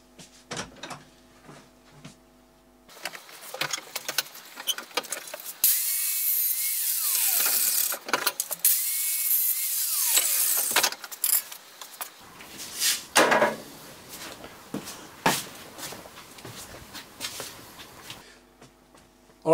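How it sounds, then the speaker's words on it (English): A handheld edge grinder cuts off a bolt up close, its high whining bursts rising and falling in pitch as the disc bites, with clattering handling noises and short pauses between passes. "So we just take some eye protection and do it with the edge grinder."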